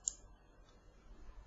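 A single faint mouse click on a Blogger web page, one short tick near the start and then near silence.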